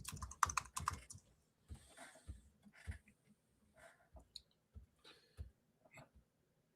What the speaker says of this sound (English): Type in Google search, but then type in Catholic Church